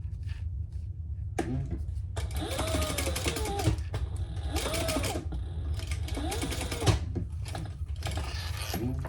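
A sewing machine runs in steady bursts of rapid stitching, top stitching a sling bag, pausing between runs with a faint voice underneath.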